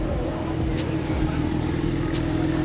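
A twin-turbo supercar idles and hums at close range on an upscale city street. The engine drone stays steady and loud throughout, with faint higher ticking above the low rumble.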